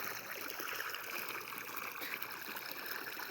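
Water from a motor pump running into an irrigation channel of a chickpea field, a continuous soft rushing and trickling flow, fairly faint and steady throughout.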